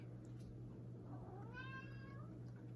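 A single drawn-out cat meow rises and falls over a steady low electrical hum, fairly quiet and with no talking.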